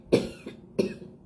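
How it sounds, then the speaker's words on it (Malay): Two dry, close coughs from a man, one sharp burst and then a second after a short pause, with a faint throat catch between them, no talk. "Sebab saya nak terbatuk sangat."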